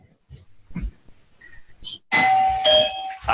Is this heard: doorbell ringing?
yes